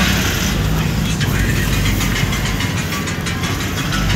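A motorcycle engine runs steadily nearby, making a loud, continuous low drone with a slight vibrating texture that never varies in level.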